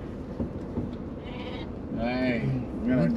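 Goats bleat on a road in Andhra Pradesh, a few wavering calls near the end under steady traffic or engine hum while people talk nearby.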